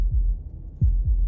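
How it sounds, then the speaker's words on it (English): A heartbeat from the video game Slay the Princess throbs low and muffled, with three soft thumps spaced a little unevenly under a faint steady hum, and no voices. "That was the sound of a heartbeat,"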